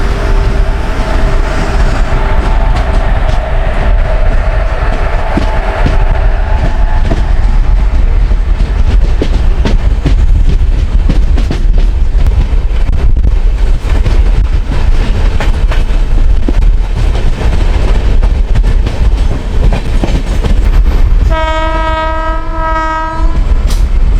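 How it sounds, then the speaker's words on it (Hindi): Paschim Express in LHB coaches runs at high speed with a loud, continuous roar of wheels and rhythmic clickety-clack, heard close from on board; a long horn blast sounds near the end. "जिस तरह से इस ट्रेन को भगाया जा रहा है"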